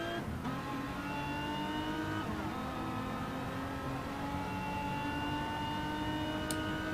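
A Mazda race car in a racing video game drones at a steady high engine pitch, with gear shifts and rising revs, continuous and alone without talk.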